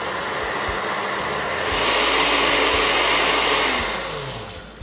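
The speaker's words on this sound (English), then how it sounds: "we put the top on our blender and put it right on its blender base and give it a whiz" A countertop blender whizzes a sesame chive vinaigrette with extra virgin olive oil, a loud steady motor whir that swells in the middle and eases toward the end, heard alone.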